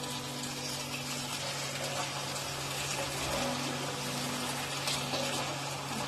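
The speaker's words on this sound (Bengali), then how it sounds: "মাংসগুলো সিদ্ধ হতে আর একটু বাকি আছে, এর মধ্যে হালকা গরম জল দিয়ে দেব 1 কাপ।" A cup of warm water poured into Bengali-style mutton kosha simmering in a pot, a steady broadband rush and gush of liquid that runs continuously at an even level.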